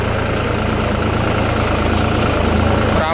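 A Deutz-Fahr Agrolux 50 Turbo tractor engine idles at about 1100 rpm, a steady, close, low diesel rumble with constant vibration and no voices.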